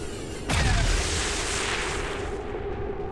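Heavy gunfire in XCOM 2 as a squad fires on Advent enemies: one loud booming blast with a long rumbling tail and sustained roar, dense and close.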